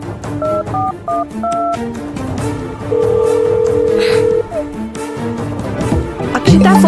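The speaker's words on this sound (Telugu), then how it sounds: "ఫోన్ వస్తుందమ్మా" A phone gives short electronic tones, first a rapid pattern of beeps, then a long steady tone and further beeps, with background noise beneath.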